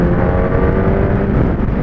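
Kawasaki ZX-10R motorcycle pulling hard in 4th gear, a loud close steady engine roar that holds its pitch over the short stretch, with no talking.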